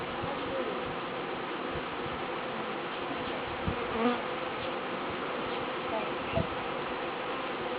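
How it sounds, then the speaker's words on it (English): A continuous swarm of bees buzzes all around, a dense steady hum with occasional louder passes close by. "Wow, look at all those bees."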